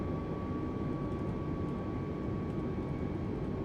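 Airliner on final approach to Palawan in a flight simulator, gear down, with a steady broadband engine and airflow roar holding at an even level throughout and a faint constant tone running underneath.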